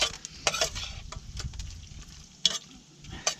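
Cooked cockles being stirred and warmed in a pan with their juice at a beach foraging cook-up, soft sizzling under scraping utensil strokes and occasional sharper clinks, close and moderately loud.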